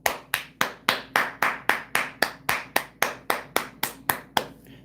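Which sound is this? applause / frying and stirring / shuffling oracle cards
applause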